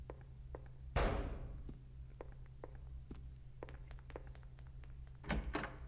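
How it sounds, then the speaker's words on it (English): Silent Hill 2 plays a single heavy bang near the start, then light footsteps tapping irregularly through a quiet interior, ending with a couple more soft knocks, no voices. "we hear a bang and light footsteps, interestingly enough"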